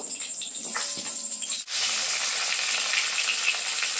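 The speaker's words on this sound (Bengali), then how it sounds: "আলুগুলো কিন্তু ভেজে নেব" Long-cut potatoes frying in hot oil give a steady loud sizzle that swells after a brief dip, with no talking over it.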